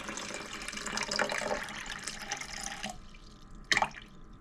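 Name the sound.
filtered Brita water poured into measuring cup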